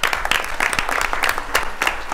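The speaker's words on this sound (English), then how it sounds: "you really should give yourselves a round of applause" Panel audience applauds at the close of a three-day event, dense, fairly loud clapping with a lively uneven rhythm, continuous throughout with no voices on top.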